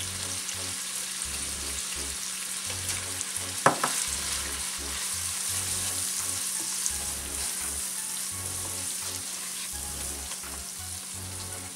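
Sofrito frying with ham in a pan for arroz con gandules, a steady close sizzle throughout with a single sharp clack early on and a faint low hum in the background.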